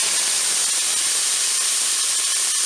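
Onions tip into hot oil in a Cookeo multicooker, producing a loud, dense, continuous hiss of sizzling that holds steady for a few seconds.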